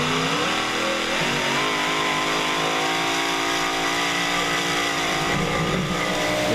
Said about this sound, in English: This is a new tractor this season called Little Bandit. V8 Brad Anderson motor on board.